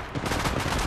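Rapid automatic gunfire from the Apex Legends Mobile shooter game, a dense, loud burst of continuous shots with no pause across the whole moment.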